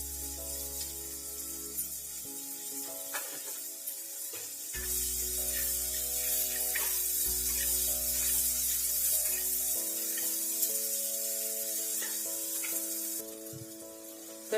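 Tomatoes frying in oil for a khasta kachori filling give a steady, close sizzle, with low music running beneath much of it.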